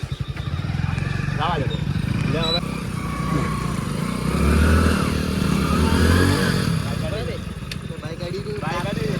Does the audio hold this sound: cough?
no